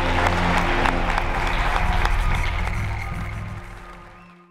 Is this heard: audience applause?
yes